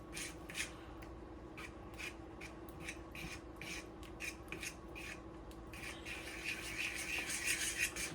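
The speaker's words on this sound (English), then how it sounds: "you want to whisk it constantly. You don't want it to clump together." Whisk scraping rhythmically through a flour-thickened cheese sauce for baked mac and cheese, soft repeated rasping strokes roughly twice a second, quiet and close, growing slightly busier toward the end.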